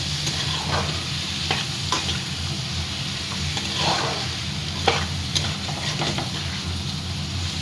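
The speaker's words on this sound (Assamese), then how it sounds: "লৰাই দিম ভালদৰে।" Steady sizzling of fried potatoes and radish in a pan, with a spoon scraping and stirring at irregular intervals; no talking.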